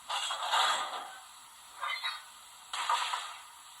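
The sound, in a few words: Kato GS4 DCC sound decoder coupler noises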